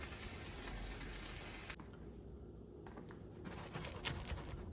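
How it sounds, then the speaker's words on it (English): Boiled potatoes are strained in a kitchen, a loud rushing pour of water that cuts off abruptly, then lighter trickling and dripping as the pan drains. "So we're going to go ahead and strain these, and then we're going to keep them in this pan"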